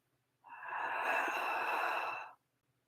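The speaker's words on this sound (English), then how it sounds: "if we just take a slow breath in" A slow, steady inhalation during a relaxation breathing exercise, a single soft airy breath lasting about two seconds, close and clear against silence.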